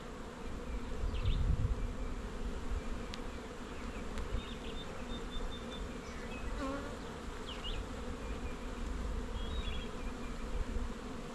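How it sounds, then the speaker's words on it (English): Dense honeybee buzzing around a thriving beehive a year after a swarm, a continuous close drone with individual bees whining past, no talk. "You can just hear the buzzing over here."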